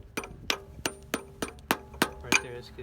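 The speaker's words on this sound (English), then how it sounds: "You may just have to tap on it a little bit" Eight sharp, evenly spaced taps ring out as a greased seal is driven into place on a Jeep Rubicon, each tap a crisp metallic knock.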